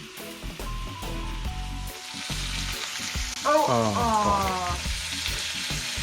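Sheephead fish fries in hot oil with a constant bright sizzle, while tonal, wavering sounds and a brief exclamation from a person rise over it partway through.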